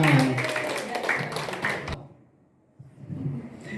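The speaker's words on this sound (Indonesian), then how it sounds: "semua berikan tepuk tangan" A classroom group applauds during a Pramuka scouting lesson on early-childhood krida, with dense clapping and chatter for about two seconds before it drops to near silence, then faint noise returns.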